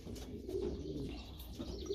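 Pigeons coo softly in a loft, low murmuring calls repeating under a steady background hum, with occasional faint chirps and rustling.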